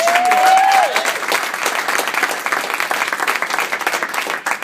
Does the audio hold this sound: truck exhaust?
no